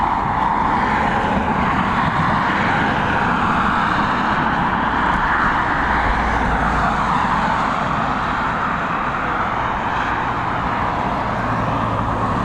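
An Airbus A330 airliner taxiing toward the end of the north runway at Dublin Airport gives a steady, broad engine roar that holds at a constant level throughout, with no talk over it.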